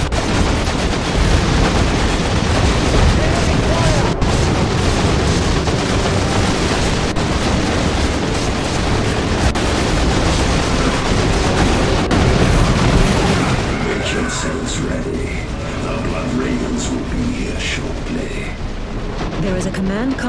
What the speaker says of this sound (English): We are under heavy fire from insurgent forces inside the perimeter.